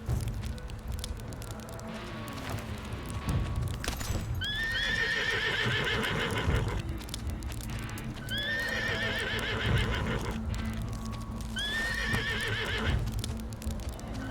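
Horses whinny and neigh in the Switch game Windstorm: An Unexpected Arrival, with three repeated rising-and-falling neigh calls spread across the clip over hoof clip-clop and a steady background rumble.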